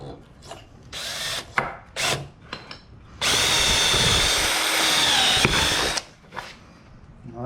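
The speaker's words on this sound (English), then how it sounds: "why not drill a straight hole?" A power drill whirs steadily, boring a straight hole through wood for about three seconds, preceded and followed by short knocks and handling clatter.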